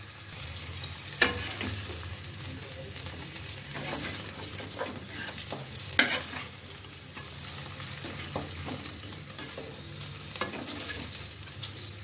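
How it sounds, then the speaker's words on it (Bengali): Okra fries in oil in a pan, giving a continuous low sizzle broken by sharp stirring clatters and scraping from a spatula, heard close up with no voices. "আমি ভেন্ডিটা ভালো করে ভাজা করি"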